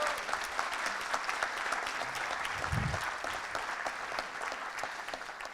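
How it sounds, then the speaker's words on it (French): Steady applause from the crowd at a political public meeting, moderately distant and even, continuing throughout with a brief low thump partway through. "du président Hainaut et du président Gouriot, que je vous demande de bien vouloir applaudir"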